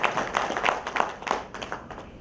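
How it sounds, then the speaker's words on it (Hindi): Audience at a Shri Ram Karmbhumi Nyas Siddhashram event with Central Minister Ashwini Kumar Choubey applauding to welcome Lakshman Sai, a burst of many hands clapping at moderate distance that thins out toward the end. "मैं उनके लिए जोरदार तालियों से उनका स्वागत करता हूं।"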